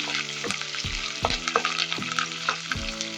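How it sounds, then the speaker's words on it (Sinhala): Curry leaves and pandan tempering in hot oil for a sugar sambol, a bright close sizzle and spatter broken by several sharp spatula knocks against the pan over a low steady hum. "කරපිංච රම්පි දාලා හොඳින් තෙම්පරාදු කරගන්නවා."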